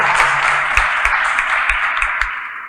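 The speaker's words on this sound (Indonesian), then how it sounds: "Tepuk tangan dong untuk orang muda di sini." Brief applause from a webinar audience, a short patter of hands clapping, fairly loud and steady, fading slightly toward the end.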